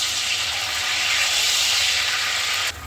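Onion paste sizzles loudly and steadily as it hits hot spiced oil for a chicken soup, a continuous bright hiss that cuts off abruptly near the end.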